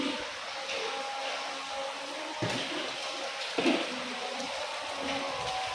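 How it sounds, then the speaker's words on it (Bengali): Heavy rain falls steadily, a continuous even hiss with a few louder thuds, with no talking. "যে পরিমাণ বৃষ্টি"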